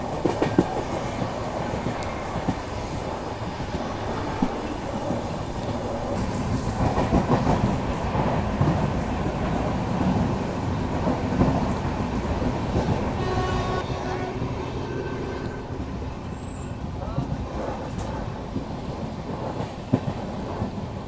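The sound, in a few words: Duronto express train running at speed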